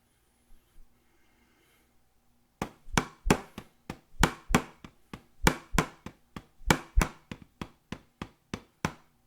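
Upstrokes and controlled strokes in a rudimental exercise, played as a brisk series of sharp, close stick strikes that vary between louder accents and softer taps after a short quiet start.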